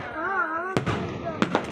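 Fireworks go off in three sharp bursts, one and then a quick pair, moderately loud, after a person speaks briefly at the start.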